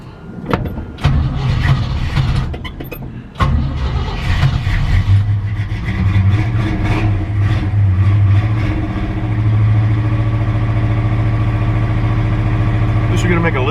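An old truck engine idles roughly and unevenly, a steady low rumble after it catches, running continuously close by.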